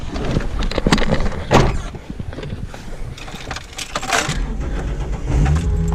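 A Ford Falcon car engine cranks and starts up, with clunks and rattles around it, then settles into a low idle near the end.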